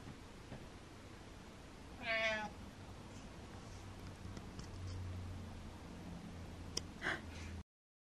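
A single clear meow from a cat rises and falls, with a faint second chirp later amid quiet room noise.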